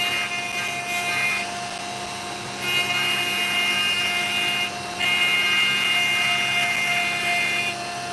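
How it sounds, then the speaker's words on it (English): A Dremel rotary tool grinds opal with a high, steady whine and gritty rubbing, close up, in bursts separated by brief pauses as it touches and lifts from the stone. "the vibrations are really quite nasty from the Dremel"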